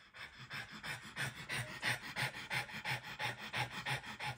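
A dog pants heavily and rapidly after energetic play, quick rhythmic breaths close to the microphone, steady for the whole few seconds with no talking.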